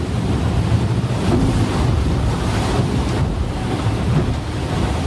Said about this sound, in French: Mon bateau remonte au vent et tape dans la vague.